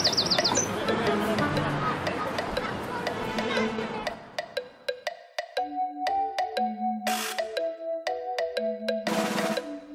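A mobile phone rings in a school classroom, a bright repeating melodic ringtone that plays steadily and fairly loud after a stretch of busy mixed sound at the start.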